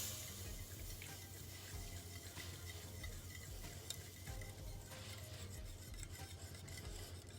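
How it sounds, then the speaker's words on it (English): Lemon juice and lemon zest whisked together in a bowl for a lemon meringue pie, a continuous busy wet whirring and scraping, fairly close and steady, with no talking. "your lemon juice and your lemon zest. And you're gonna whisk again."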